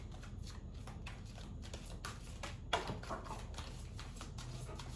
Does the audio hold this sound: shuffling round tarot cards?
yes